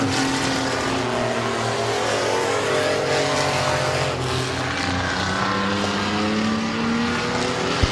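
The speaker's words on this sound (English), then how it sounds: "Going to be a battle through 3 and 4 with 1 lap to go for Rich Schweitzer." Stock race cars roar around Midvale Speedway in a close battle for second on the final lap, engines droning loud and continuous with rising and falling pitch as they pass through the turns.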